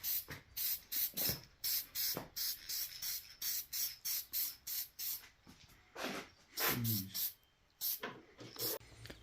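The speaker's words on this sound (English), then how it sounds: "we got the head gasket all copper sprayed" Copper gasket spray applied to a head gasket for a B20B engine build, heard as a close series of short hissing aerosol bursts in an irregular rhythm, with a few longer sprays and low voices between them.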